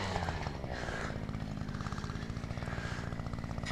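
A power ice auger drilling fishing holes through lake ice, a steady buzzing motor drone with a fast pulsing rhythm, fairly close and continuous throughout.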